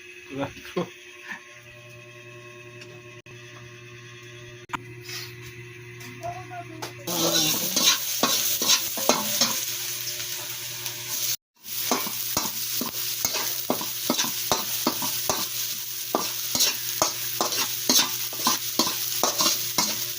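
Ground pork for lumpiang Shanghai sizzles in a pan, quiet at first, then frying loudly with repeated scraping stirs in a steady rhythm, while people talk nearby.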